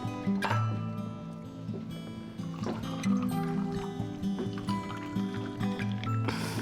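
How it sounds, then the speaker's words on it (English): Ginger beer glugs and fizzes as it is poured into a Moscow Mule cocktail over vodka, a close, bubbly trickle with clinks, continuing for several seconds. "And I'm gonna top it up with ginger beer."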